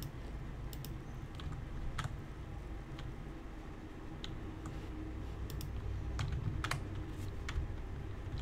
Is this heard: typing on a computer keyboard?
yes